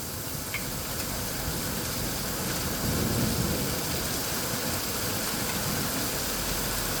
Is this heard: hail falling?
yes